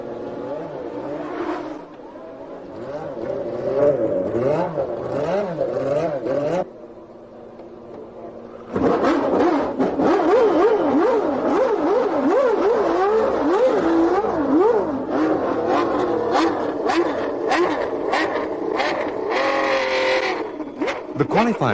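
Nigel Mansell's Formula One car heads out onto the track for practice, its engine note rising and falling through repeated revs, with a brief quieter gap before it returns loud and sustained.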